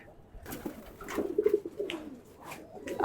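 Pet pigeons coo softly in low, rolling calls, several overlapping bursts close by in a quiet setting, with a few faint rustles between.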